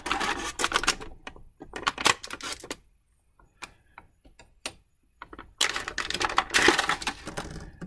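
Small cutting snips and plastic crinkling come in bursts as thin plastic bands are cut off a He-Man action figure's packaging. The sounds are close and sharp, with quiet gaps between the clusters.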